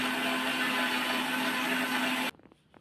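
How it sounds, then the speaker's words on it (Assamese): A kitchen mixer grinder blends banana and jaggery into batter: a loud, steady motor whine that runs evenly for about two seconds, then abruptly cuts off, leaving faint clatter as it spins down. "এতিয়া মিক্সাৰ মেচিনত 1 মিনিটৰ কাৰণে গুড়ি কৰি লোৱা হ'ব।"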